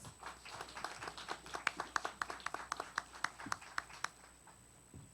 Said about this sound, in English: Give Devin a round of applause.